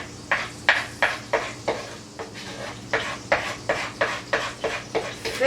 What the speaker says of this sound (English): We are going to mix this.